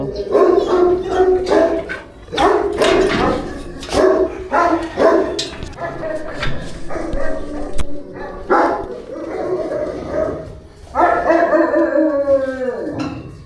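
A dog on a cold January morning gives repeated loud barks and drawn-out howls up close, arriving in bursts with short pauses and a long rising howl near the end.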